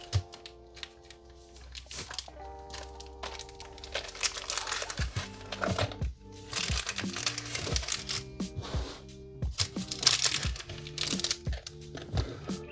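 Packaging of a Vario watch box is opened by hand with crinkling, rustling and crisp tearing and snapping sounds, quiet and close, coming in irregular bursts with short pauses between.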